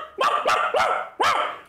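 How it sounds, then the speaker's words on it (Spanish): A dog barks four times in quick succession, sharp and close, with short gaps between the barks and no other sound. "Te dije que no ladres más cuando grabo."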